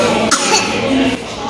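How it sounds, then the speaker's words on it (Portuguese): A sick child coughs at a doctor's office, a couple of short, close coughs in quick succession. "Quem é que tá tossindo aí?"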